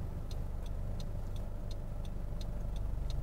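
A car in a driving lesson creeps very slowly toward the curb on the clutch during parallel parking, a steady low engine hum near and continuous with a faint regular ticking, likely the indicator, over it.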